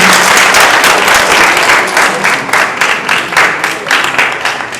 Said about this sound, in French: Alors, on applaudit s'il vous plaît pour la accompagner.